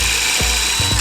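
A power drill runs a bit through pre-drilled holes to clean them out in a garage, a loud continuous whine that dips briefly a few times as the bit catches.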